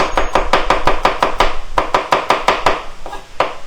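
Knife chopping food on a board for Hokkien flat noodles in a Mamak-style kitchen, a fast run of sharp, close, loud chops with a short pause midway, no talk.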